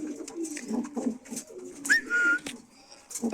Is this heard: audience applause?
no